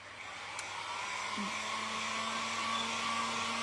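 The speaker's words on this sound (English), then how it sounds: "I'm just going to dry it with my heat gun really quick" A heat gun blowing hot air to dry decoupaged paper on thrifted vintage butterflies, heard as a steady, close, even whoosh with a faint motor tone, running unbroken with no talking.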